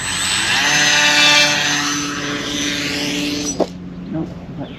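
An RC plane fitted with an ExpressLRS receiver is hand-launched with its electric motor whining loudly up close, the pitch sweeping and fading before a thud and scattered clatter as it comes down.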